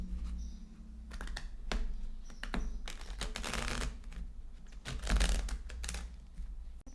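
Tarot cards being shuffled by hand, a run of quick riffling bursts and soft taps up close, irregular in rhythm, with no talking.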